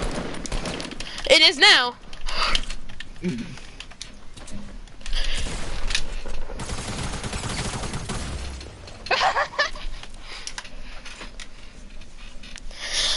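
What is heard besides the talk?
gunfire from the video game Fortnite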